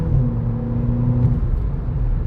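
VW Polo GTI hatchback engine heard from inside the cabin, a steady low droning rumble with a rising tonal whir as it pulls under acceleration, continuous and moderately loud.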